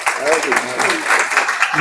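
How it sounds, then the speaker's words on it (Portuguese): An audience at a talk gives a round of applause, a dense, steady crackle of clapping filling the short stretch with faint voices underneath. "Uma salva de palmas."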